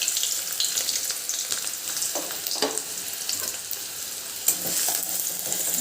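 Finely chopped onion with curry leaves and a dried red chilli frying in hot oil, a steady close crackling sizzle with a few stirring scrapes, alone without talk.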